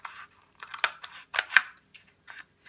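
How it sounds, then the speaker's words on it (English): Scissors cut through a cardboard toilet paper roll in several crisp, close snips spaced irregularly, with short pauses between cuts and no talking. "you'll take your scissors, and we want to take this roll and we're going to cut this in half"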